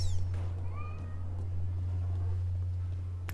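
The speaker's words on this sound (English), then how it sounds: "my cat is going nuts in the background" A pet cat meows a few times, thin and somewhat distant, in a room over a steady low electrical hum.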